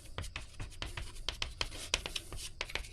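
Marker or chalk strokes scratching across a board during a physics lesson, a quick series of short, crisp strokes and taps coming fairly close with no talk over them.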